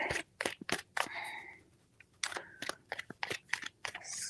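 Tarot cards being shuffled by hand, close crisp riffles and slapping flicks in uneven bursts with a short pause midway.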